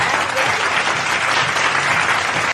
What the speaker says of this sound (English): Let's clap our hands again